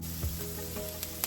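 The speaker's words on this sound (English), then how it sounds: "so we do have a nice sizzle here" Cauliflower rice with cabbage and onion sizzles steadily in a pan, a soft continuous frying hiss with a few small pops, close and fairly quiet.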